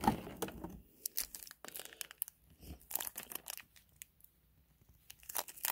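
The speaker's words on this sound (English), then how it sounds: "Now we just have to rip it open here." Plastic gift packaging is crinkled and torn open by hand in a series of sharp, close crackling and ripping bursts with brief pauses between them.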